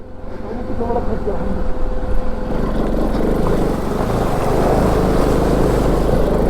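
A motorcycle ridden on a Himalayan road toward Leh pushes through a deep water crossing, the tyre half submerged, its engine and splashing water making a loud continuous rumble close by, with a rider's voice faintly under it.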